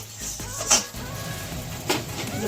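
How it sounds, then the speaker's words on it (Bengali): A bowl is washed in a home kitchen, with light clinks and knocks of dishware against a running-water hiss at moderate distance, two brighter clinks standing out. "বাটিটা একটু ধুয়ে দাও।"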